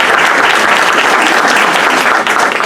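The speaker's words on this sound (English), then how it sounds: "we should definitely give a round of applause for the fencing team." Loud, sustained applause from an audience at a school board meeting honoring the fencing team, dense clapping filling the whole moment without speech.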